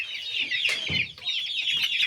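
A heavy rooster of about four kilograms clucks in short bursts close by, over a constant bright chorus of other chickens and birds in the background.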